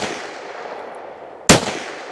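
A single sharp, loud report from a Smith & Wesson M&P .22 Magnum pistol fired at an outdoor range, cracking out once after a stretch of quiet background hiss and followed by a brief decaying tail.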